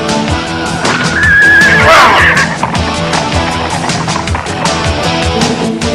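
Horses whinny in a Galaxy Rangers cartoon, a shrill neigh rising and falling over a busy, loud music score with thudding rhythmic accents.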